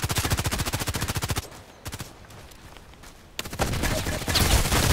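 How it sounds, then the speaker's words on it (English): Gunfire in the video game Contract Wars: a fast automatic burst up front, then a quieter stretch with scattered shots, and heavier firing returning at the end, with voices talking over it. "Blind shooting here."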